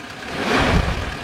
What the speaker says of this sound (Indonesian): Coba kita sedikit geber.